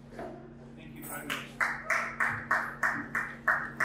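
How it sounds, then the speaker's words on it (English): An audience at a Labour Party gathering in Nigeria claps together in a steady rhythm. The claps come as about eight evenly spaced bursts at moderate loudness over a low background hum. "A round of applause for"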